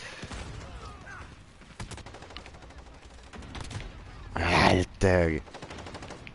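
Gunfire in Call of Duty Modern Warfare crackles in quick bursts, growing into two loud, sustained volleys near the end, with someone speaking briefly early on.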